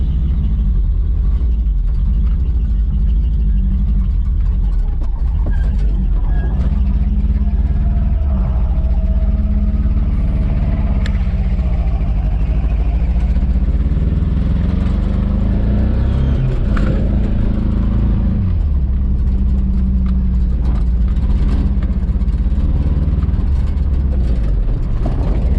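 Car engine on a vehicle fitted with homemade snow tires, running roughly and struggling to stay running, a loud, steady low rumble with uneven revs and surges throughout, no talking.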